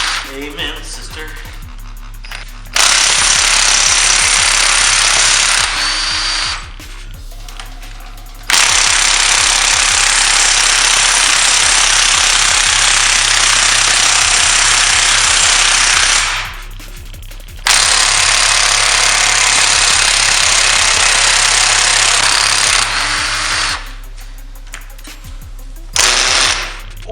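Pneumatic impact gun hammering off a crank pulley bolt during a Honda B20 engine teardown, loud rattling bursts in three long runs of several seconds each, with brief pauses and a steady background hum between them.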